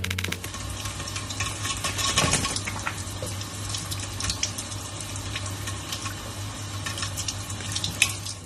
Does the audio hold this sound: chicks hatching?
no